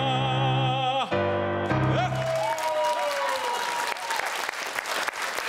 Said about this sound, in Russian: еще раз приветствуем бурными аплодисментами певец